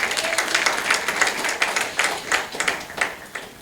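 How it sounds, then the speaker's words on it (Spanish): A church congregation applauds during a Spanish-language sermon, a steady burst of many hands clapping close and fairly loud, with sharper individual claps standing out, no speech over it. "Dale un aplauso"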